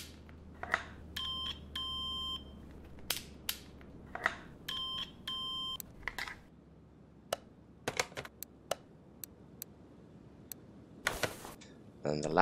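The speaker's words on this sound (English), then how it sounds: "Electronic multimeter." Electronic multimeter in Car Mechanic Simulator 2021 gives short synthetic beeps, several in clusters and single tones spread across the stretch, alongside soft clicks and keyboard-like tapping with occasional speech.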